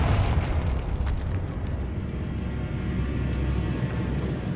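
A Confringo spell explodes in the video game Hogwarts Legacy inside a decayed catacomb, a loud, close, rumbling blast that swells at once and holds as a heavy roaring boom with crackling debris throughout.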